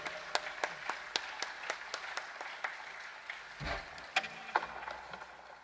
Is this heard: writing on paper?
no